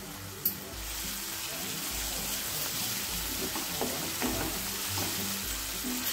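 Ginger paste sizzles in hot oil while masala mushroom spices fry, a loud, steady crackling hiss running throughout with occasional stirring sounds.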